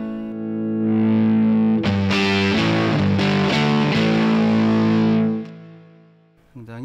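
An electric guitar runs through an Origin Effects RevivalDrive Hot Rod drive pedal, giving sustained distorted chords that hold loud and steady for about five seconds before decaying, with a brief noise at the end.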